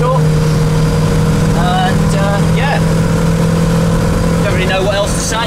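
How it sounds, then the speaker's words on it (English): A V8 Land Rover Defender 127 ambulance cruising in fourth gear on choke just after a cold start, a steady droning engine hum with road noise, close and loud throughout, with talking inside the cab. "As you can see, the car drives lovely in fourth gear."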